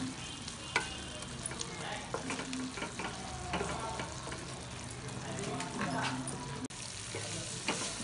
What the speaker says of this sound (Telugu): బెల్లం అంతా స్వీట్ పొటాటోకు పట్టేలాగా మనము కలుపుకోవాలి.